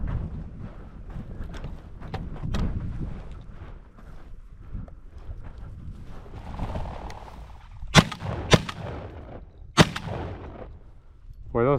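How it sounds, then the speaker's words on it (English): Shotgun blasts while hunting chukar over a pointing dog, two sharp reports close together and then a third a moment later, heard over strong wind buffeting and rustling outdoors. "those first two shots were not good"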